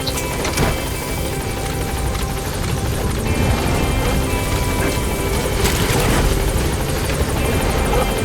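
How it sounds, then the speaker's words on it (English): A helicopter in Metal Gear Solid V: The Phantom Pain roars loudly and close, rotor chop and engine noise thick and continuous throughout, with game background noise underneath. "Support helicopter has arrived."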